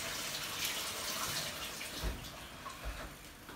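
Water drains steadily from a cooking pot that held onion, for a Moroccan loubia with meat, a continuous close rushing splash with a few heavier gushes near the end and no talking.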